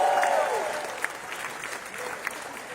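Audience applause at a reparations rally, a broad wash of clapping that starts loud and gradually thins and fades over a few seconds, with scattered crowd noise and a voice briefly heard at the start.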